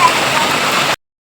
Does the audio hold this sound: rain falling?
yes